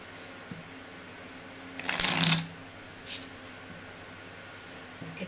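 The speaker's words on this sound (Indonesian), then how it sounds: "Kita kocok kartunya." A new deck of Dutch playing cards is shuffled once in a quick, close riffle, a short rustling burst in an otherwise quiet room, followed by a faint tap.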